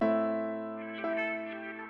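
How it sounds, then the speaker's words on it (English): Sustained piano-like tones swell and fade with a reversed, backward attack, a few soft pulses near the end, no voices. "weird like reverse sound that I was using."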